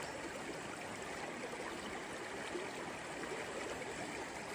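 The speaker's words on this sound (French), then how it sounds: "Je vais remettre un peu d'eau." Water poured into a gold panning pan outdoors, a soft steady splashing trickle that runs on continuously without breaks, fairly faint and close.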